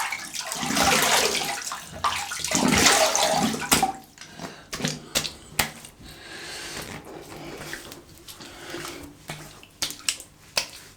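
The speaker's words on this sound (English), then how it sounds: "Let me have a quick little rinse." Water splashes as a razor is rinsed mid-shave, starting as a loud stream, then settling into short splashes and scattered sharp taps, close by and with no voices.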